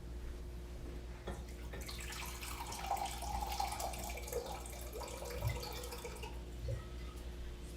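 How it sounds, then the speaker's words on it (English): Water pours steadily from a tap into a warm saute pan for several seconds, splashing and gurgling close by over a low kitchen hum, with no talking. "already warm, so I'm going to add some water."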